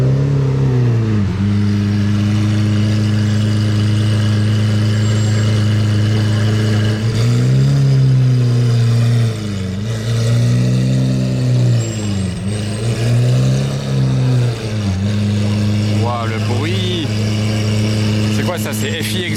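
A red Ferrari fitted with an FI Exhaust revs close by in repeated swelling blips over a deep idle, each rise and fall clearly shaped, with a louder sharp rev near the end and voices in the background.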